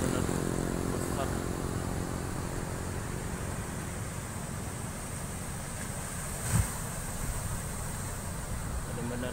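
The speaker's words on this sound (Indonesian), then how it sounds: "Ombaknya bener-bener besar." Big Indian Ocean surf along the Bengkulu coast of Sumatra, a continuous washing roar of breaking waves mixed with gusty wind buffeting the microphone, heard from the shore with a voice talking briefly.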